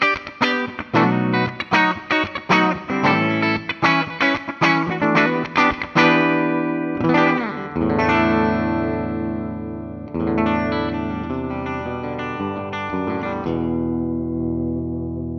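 A 2011 Gibson Billie Joe Armstrong DC electric guitar with humbucker pickups plays distorted, chugging chords and riffs up close, moving from rapid rhythmic strumming into sustained ringing chords, with no talk.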